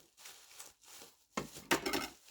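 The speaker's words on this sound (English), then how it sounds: "I am going to have to wield the knife" A knife slicing open a cardboard parcel box from an Airfix order, giving close, scratchy cutting and tearing strokes in short bursts, with a louder ripping pass near the end.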